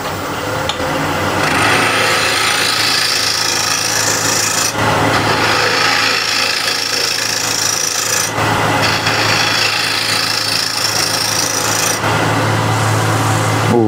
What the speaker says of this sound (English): I'll just scrape this to see how it works